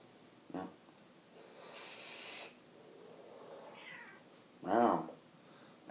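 A pet cat meows a few times in a room, the calls short and fairly close, with a louder meow near the end; a person speaks briefly around the calls.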